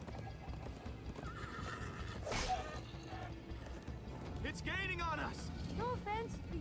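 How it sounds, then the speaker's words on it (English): Horses neigh and gallop in the Minecraft Story Mode video game, a rolling clip-clop under the action with a sharp whinny midway and more neighing near the end, while characters speak over the scene. "First time on a horse here."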